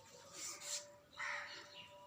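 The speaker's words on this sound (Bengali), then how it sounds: "কাকটা ডাকছে দেখো" A crow caws outdoors, two or three harsh calls in quick succession, moderately distant and fairly faint over quiet ambience.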